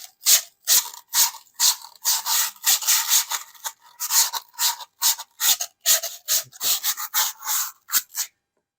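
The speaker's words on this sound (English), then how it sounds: "But before we paint it, we need to sand it." Wet ultrafine-grit sandpaper wrapped around a lightsaber hilt rubs back and forth in quick, steady strokes, each a short rasping burst separated by brief pauses, close and clear with no talking.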